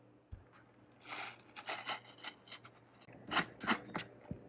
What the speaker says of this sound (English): So you're scraping and getting this jelly out of all of them.